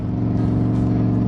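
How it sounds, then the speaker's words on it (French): A Shelby Cobra roadster runs flat out, its engine giving a loud, close, steady droning roar with a strong low harmonic hum that holds evenly throughout. "La Shelby Cobra de Christophe et Alain, elle, semble mieux partie que l'an dernier. Elle avance à bonne allure, elle roule à fond."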